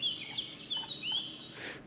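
A bird sound effect laid into an electronic music breakdown, with a run of short high chirps and tweets over a soft steady bed, closing with a brief burst of hiss.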